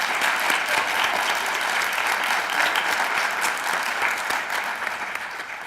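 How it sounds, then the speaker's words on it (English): A school-district PTA Founder's Day audience breaks into a full round of applause for its volunteers, dense, steady clapping from a sizeable crowd that holds evenly and tapers only slightly near the end. "How about one more round of applause for everybody?"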